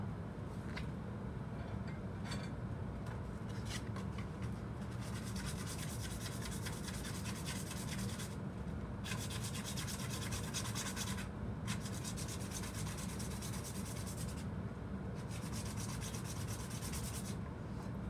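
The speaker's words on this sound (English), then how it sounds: "Now what I have to do is sand down all these tubes, and I like to just use a piece of 400 to do that" Tubes being sanded by hand with a piece of 400-grit sandpaper for an RC 4x4 roll bar, a continuous close rasping rub with brief rhythmic pauses between strokes, no talking.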